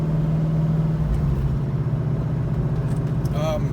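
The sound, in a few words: C5 Corvette engine while driving off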